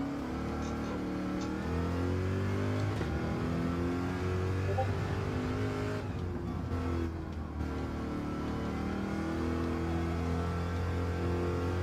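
Race car engine in a racing video game, a sustained loud buzzing drone that rises and falls with revving and shifting, continuous without talk.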